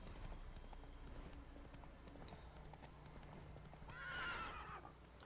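Roach the horse gallops through the wilderness in The Witcher 3 video game, steady clip-clop hoofbeats running throughout, with a loud whinny rising near the end.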